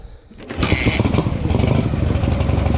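A motorcycle pulls away as the rider sets off, its engine rising quickly into a loud, close, continuous roar that holds steady through the moment.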